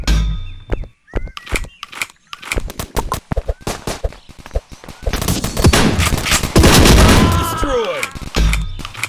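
Rapid shotgun blasts from the multiplayer game Dude Theft Wars, loud sharp bursts in irregular clusters that build into a dense barrage with clanks and whooshes, while a voice talks over part of it.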